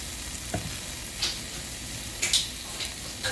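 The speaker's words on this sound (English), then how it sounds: "just want to let that just brown slightly, ever so slightly" About a tablespoon of minced garlic sizzling in a pan for chicken piccata, a steady close frying hiss with a few light clicks of utensils against the pan.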